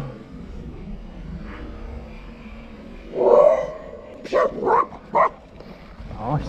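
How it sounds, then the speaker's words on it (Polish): Dogs bark in a short series of sharp, loud yaps close by, heard from a mountain bike ride on the edge of a built-up area near Szczecin, over faint wind and riding noise. "Pieski szczekają."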